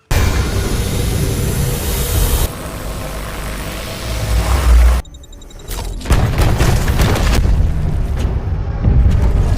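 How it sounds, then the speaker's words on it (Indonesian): A film explosive detonating at a mining site and knocking a robot over, heard as a loud sustained boom with heavy low rumble, a sudden drop to near silence, then renewed crashing blasts and debris noise. "sebuah peledak pun diaktifkannya membuat si robot jatuh terjungkir"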